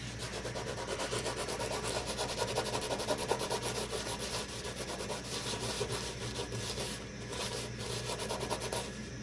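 Steady, close scrubbing and rubbing on a stainless steel kitchen sink as resistant marks are worked at, a continuous abrasive texture with no talk.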